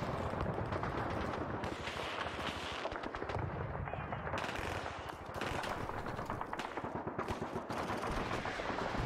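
Battlefield gunfire in Call of Duty 2 with a sniper among the shooters: dense continuous volleys of shots and heavy booms, a constant loud roar of combat without pause.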